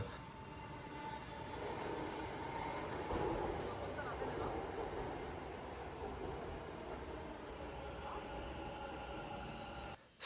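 Bengaluru metro train pulling into a station platform, with steady rumbling rail noise and wheel squeal that swells slightly and then holds, alongside a faint murmur of voices.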